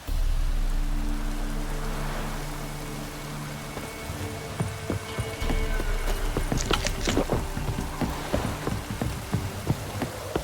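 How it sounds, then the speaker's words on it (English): Steady rain in The Witcher 3 falls as a broad, continuous hiss, joined midway by scattered clattering, hoof-like knocks and a few brighter sharp hits. "Looks like rain."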